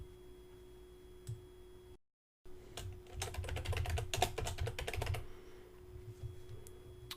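Quiet typing on a computer keyboard, a quick run of light key clicks that clusters in the middle of the passage, with a steady faint electrical hum underneath and a short silent gap near the start.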